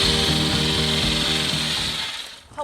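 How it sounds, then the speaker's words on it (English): A power drill bores holes into plywood for Land Rover lights, one steady close whirring run with a grinding rhythm that slows and stops at the end, with no talk. "we marked the positions and drilled the holes"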